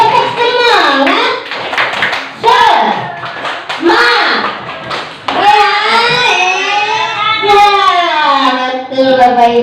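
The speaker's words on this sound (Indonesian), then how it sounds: "kita tepuk semangat Bapak Ibu. Oke, tepuk semangat." A group does tepuk semangat, a spirited rhythmic clapping chant in a classroom-style gathering. Sharp hand claps come in quick bursts under loud, sustained chanting and raised voices throughout.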